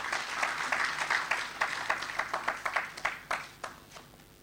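Applause from an audience at a university ceremony, fairly sparse and thinning out, with individual claps standing out as it tapers toward the end.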